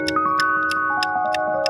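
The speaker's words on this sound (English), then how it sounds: "The clock is ticking." A steady clock tick-tock, evenly spaced crisp ticks about three per second, laid over sustained tonal hum, loud and close.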